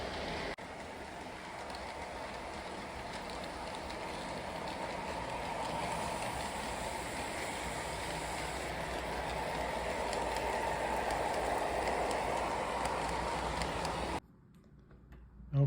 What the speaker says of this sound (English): I've got the Atlas O engine running at 25 miles per hour according to MPH, DCS